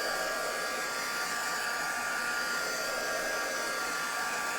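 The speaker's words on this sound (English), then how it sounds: "I'm drying it by heat gun." A heat gun blows steadily on a lavender decoration, a loud, even, unbroken whooshing roar that holds constant from start to finish.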